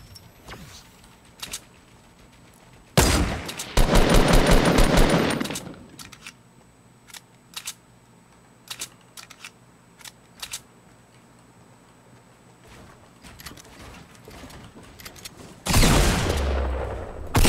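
Gunfire from the video game Fortnite: rapid automatic bursts at the start and again near the end, with scattered single shots and clicks in between and no one speaking.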